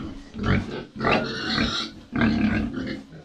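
A large sow on a small farm grunts in three close, throaty bursts, near and moderately loud.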